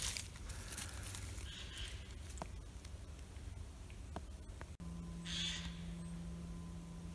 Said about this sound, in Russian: Птица меня предупреждает